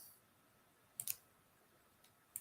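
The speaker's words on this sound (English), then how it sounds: "Sorry, I'm just typing this in real quick." Sparse, faint clicks of typing on a computer keyboard: a short cluster of keystrokes, then a single tap, and another pair at the end, over a quiet room hush.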